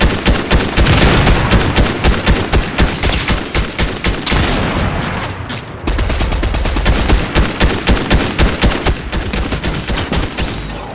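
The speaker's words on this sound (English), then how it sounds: "He's shooting at you?" Gunfire in Fortnite, loud, rapid bursts of automatic shots in a regular pulsing rhythm, close and sustained with a brief gap midway, and no talking.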